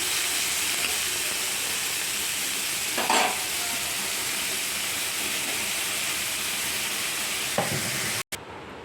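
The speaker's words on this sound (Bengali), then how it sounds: "এবার আমি চিংড়ি মাছটাকে আর পেঁয়াজ দিয়ে ভেজে নেব।" Prawns and onion fry in oil in a pan, a steady close sizzle with a couple of brief stirring scrapes and spatters rising over the constant hiss.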